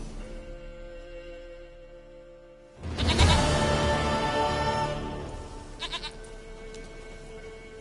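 In the video game The Witcher 3: Wild Hunt, a goat lets out a loud, quavering bleat that lasts a couple of seconds. Softer bleats follow over a low game ambience.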